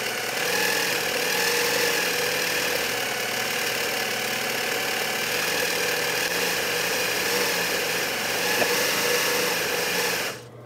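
A sewing machine clutch motor is held near 1600 RPM, giving a steady, fairly loud mechanical whir and hum with a faint rattle that runs evenly until it cuts off at the end, with no voices.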